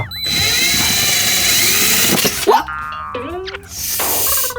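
A power drill whirs loudly and steadily for a couple of seconds while drilling a hole in a cabinet, then stops amid clanks and ringing metallic tones, before whirring up again.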